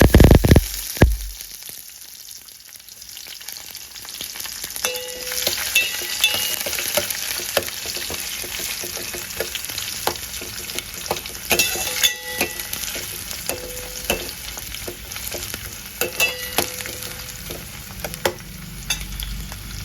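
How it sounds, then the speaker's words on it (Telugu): Sliced onions frying in oil with fenugreek seeds, cumin and a pinch of salt: a steady close sizzle running throughout, broken by repeated sharp clicks and scrapes of a spoon stirring the pan, with no talk. "ఇది బాగా బ్రౌన్ కలర్లో వచ్చేంత వరకు వేగాలి"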